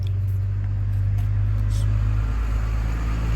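A nearby truck engine runs with a heavy, steady low rumble that swells slightly as it revs, droning loudly and continuously with no voices over it.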